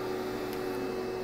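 A router running a holster cutout gives off a steady, close, even whine with a broad hiss beneath it, heard alone with no voices.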